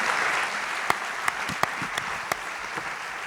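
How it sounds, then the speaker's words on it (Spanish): Audience applause at a talk with authors Fernando Rueda and Mikel Lejarza, continuous clapping from a seated crowd with a few louder individual claps standing out near the front. "este aplauso de nuestro público"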